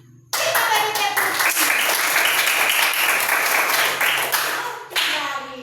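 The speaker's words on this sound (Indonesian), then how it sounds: "Kita beri tepuk." Pupils in a classroom break into brisk applause, loud and close, clapping steadily for about five seconds before it stops abruptly, with a teacher's voice faintly underneath.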